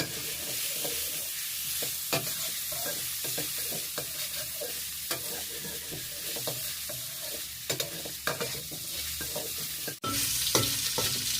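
Chopped bacon sizzles steadily in a little hot vegetable oil while a utensil scrapes and taps the pan in irregular stirring strokes, close and fairly loud throughout.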